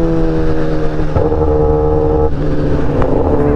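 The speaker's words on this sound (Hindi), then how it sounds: "दोनों बाइक का साउंड एक साथ सुनिए।" A Kawasaki Ninja ZX10R and a Suzuki Hayabusa revving together, producing loud, close engine roars with layered steady tones and brief throttle blips, no voices.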